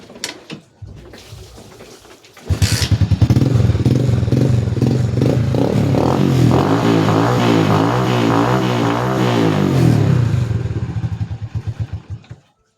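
A Rusi Swish motorcycle engine comes to life after a brief cranking sputter. It settles into a loud, close, steady putter that fluctuates slightly in pitch, then fades off at the end, with no talking.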